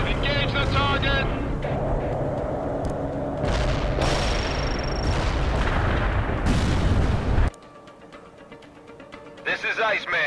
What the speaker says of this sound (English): Cluster bomb hit for full effect.